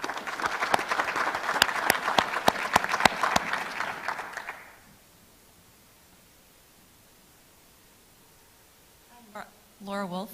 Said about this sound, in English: Let's give a round of applause for the speakers.